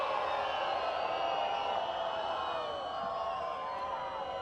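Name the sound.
hockey crowd reacting with disapproval to a green card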